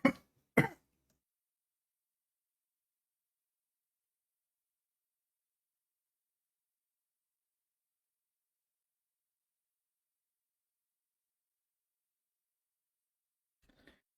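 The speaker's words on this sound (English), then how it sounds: "I had to cough hard." Two hard, harsh coughs burst out close and loud right at the start, followed by long silence and a faint rustle near the end.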